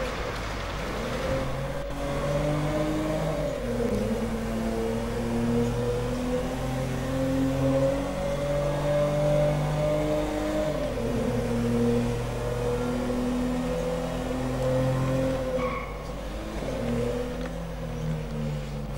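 A Toyota Corolla in GTA5 drives off-road through a jungle, its engine droning steadily with rising and falling revs throughout, loud and continuous with no talking.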